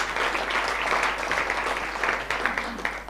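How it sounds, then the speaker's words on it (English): An audience at a global CEO summit applauds with a dense, steady patter of clapping that stays level for a few seconds and thins slightly at the end. "let's give him a big hand of applause"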